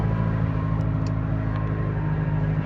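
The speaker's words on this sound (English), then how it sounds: "that causes the engine to rev up a bit. So the engine needs to decelerate a bit. So that's why it revs back down." A city bus engine with an exhaust leak hums steadily in neutral, a close, even drone with no clear rise or fall over a few seconds.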